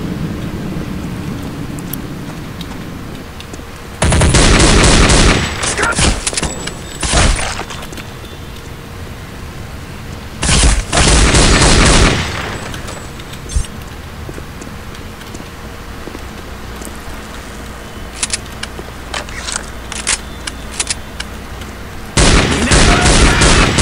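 Gunfire in the shooter game Counter-Strike: Condition Zero erupts in several loud, dense bursts separated by quieter stretches of game ambience, with rapid overlapping shots in each burst.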